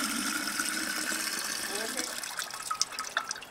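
Water pouring and splashing out of a homemade solar still built from a kitchen sink, a steady gush with a few brighter drips toward the end, close by and moderately loud.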